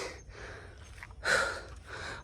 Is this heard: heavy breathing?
yes